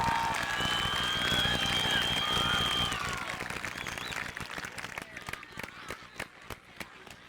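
Crowd applause and scattered cheering at a point-to-point horse race, dense and sustained for about three seconds, then thinning into sparse individual claps that fade out.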